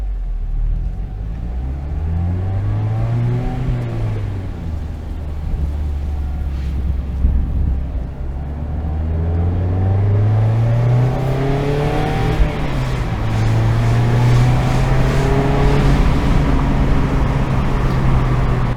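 A 2021 Mazda MX-5 roadster's engine rumbles and rises in pitch through repeated upshifts as the car accelerates, heard from inside with steady wind noise and no talk.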